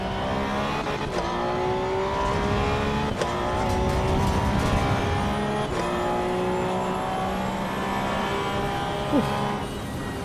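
A race car engine in Assetto Corsa Evo holds a steady, loud drone through an out lap, with sharp gear-change breaks around every couple of seconds and continuous rising and falling revs.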